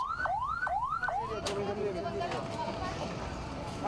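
An ambulance siren wails in repeating rising sweeps, fairly loud and close, then gives way to a wavering tone under traffic noise and a spoken news report.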